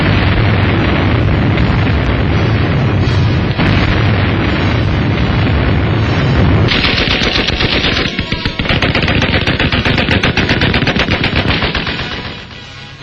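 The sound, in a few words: bombardment explosions in Shanghai, archival war film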